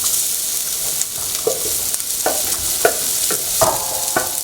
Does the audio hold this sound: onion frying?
yes